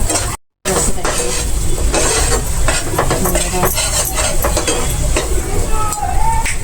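Spoonful of garlic paste hitting hot oil for a homestyle paneer masala, giving a loud, dense, continuous sizzle with stirring scrapes and a brief dropout near the start, close up and without speech.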